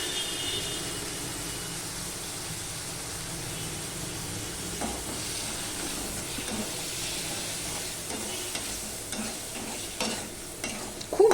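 Greens with tomato and turmeric sizzle steadily in a pan as they are stirred, a continuous soft frying hiss with scattered scrapes growing a bit louder toward the end.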